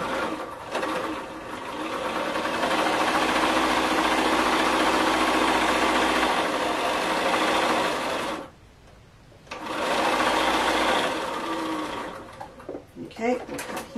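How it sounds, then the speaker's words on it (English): A sewing machine chain-sews fabric pieces together in long, loud, steady runs of rapid mechanical stitching, pausing briefly before starting again, with someone talking over it. "so we just want to sew these all together"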